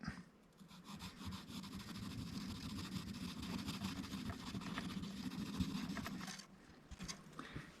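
Sandpaper rubbing steadily on a part of a Harley Benton guitar in for service, a continuous close scratchy rasp for most of the stretch that drops away near the end.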